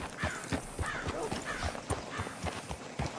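Horse hooves clip-clop steadily in Red Dead Redemption 2, a regular beat of close, fairly loud hoof strikes running the whole way through, with a faint whinny in the mix and no talk over it.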